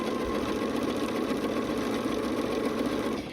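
A sewing machine stitches quilt fabric pieces together for a quilt block, a steady, close, continuous whir running unbroken for the whole stretch with no voices.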